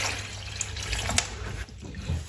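Taro root (arbi) being washed by hand in water in a kitchen sink with the tap running, a steady close splashing and trickling with small bursts of sloshing as the roots are rubbed.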